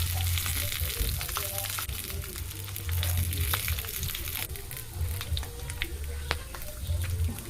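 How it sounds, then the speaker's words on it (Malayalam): Karimeen (pearl spot) fish frying in oil in a pan, a steady crackling sizzle with occasional sharper pops, close and fairly loud, with low rumbling noise underneath. "കുറച്ച് എണ്ണ കൂടി ഒഴിച്ച് കൊടുത്തിട്ടുണ്ട്. നമുക്കൊന്ന് മീനൊന്ന് മറിച്ചിട്ട് കൊടുക്കാവേ."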